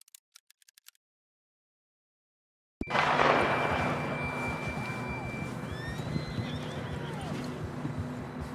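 A horse neighs and whinnies in Red Dead Redemption 2 after a brief silent gap, with hoof clip-clop and outdoor ambience under rising game sound and voices.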